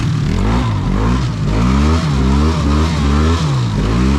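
Utility quad ATV engine revving hard in high gear while ploughing through deep water, a loud, close, steady roar with rising and falling rev surges throughout.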